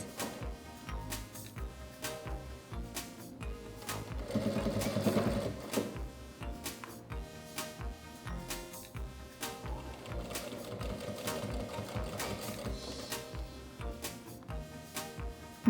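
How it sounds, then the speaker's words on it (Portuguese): A sewing machine stitches bias binding along the edge of a fabric wallet, running in steady rapid bursts with brief pauses and one louder, faster stretch, close and clear with no talking. "Então, eu começo a minha costura, dou um retrocesso e vou fazendo a minha costura, posicionando o meu viés."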